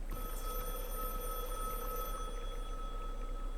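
A telephone rings steadily with a bright electronic bell tone, fairly quiet and slightly distant, repeating without pause.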